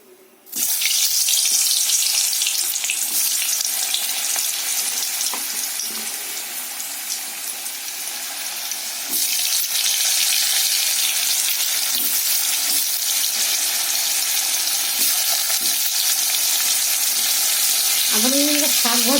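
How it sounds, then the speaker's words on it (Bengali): Pumpkin frying in a pan in a home kitchen, a continuous close sizzle and hiss with occasional stirring scrapes and a brief clink near the end. "কুমড়োটাও অল্প একটু আছে, একটু ভাজা করে নিই।"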